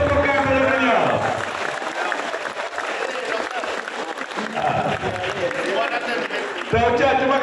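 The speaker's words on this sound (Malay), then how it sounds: "beri tepukan kepada beliau" Audience applause at a gathering in Kota Bahru, Kelantan, honoring Dr. Mani Maren, a sustained wash of clapping from a crowd that carries on steadily across the stretch, with a speaker's voice over it at moments.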